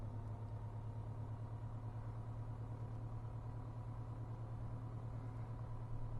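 A Piper Arrow's piston engine in the Prepar3D flight simulator hums as a steady, low, even drone that holds throughout, with no voices.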